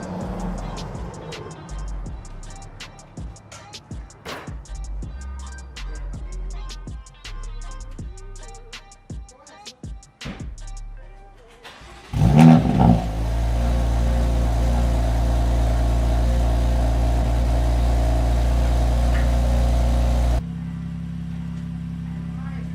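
BMW F82 M4 with catless VRSF downpipes and an equal-length midpipe fires up on a cold start: a sharp loud burst, then a steady, heavy, droning high idle that drops slightly near the end. Clattering work noise comes first.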